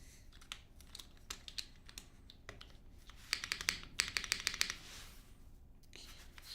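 Rapid clicks and clacks from a custom Daji Seis Cero mechanical keyboard being typed on, loose bursts of keystrokes with a denser flurry midway, close and fairly quiet, no talking.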